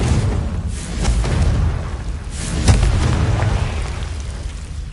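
Confringo spell explosions in Hogwarts Legacy, a couple of dull booming bursts with a sharper pop near the middle over low rumbling background.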